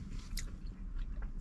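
Bite into a crunchy battered fried mushroom from a fast-food burger, a quick close crisp crunch followed by soft chewing, faint and brief with no talk.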